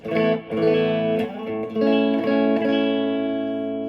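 A clean-toned electric guitar plays a short chordal phrase through a Boss Katana Air modelling amp with no pedals, notes ringing and sustaining, with no voices.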